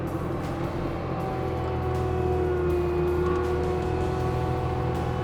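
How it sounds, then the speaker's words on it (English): A skid steer fitted with a disc mulcher attachment revs its engine up to full throttle, a loud, steady close-range drone with rising whining tones and no talk over it. "I'm going to rev the engine all the way up."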